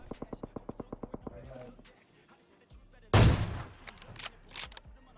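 Gunshots in the PUBG Mobile battle royale game: a rapid run of about ten evenly spaced sharp shots, a quiet pause, then a loud close blast followed by several more bursts.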